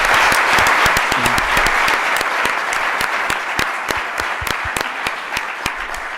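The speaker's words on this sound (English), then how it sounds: "how about a round of applause for His Excellency Dr. Rudin?" An audience at a youth technology event in Kigali breaks into loud, dense applause that holds steady for several seconds and eases slightly toward the end, with no speech over it.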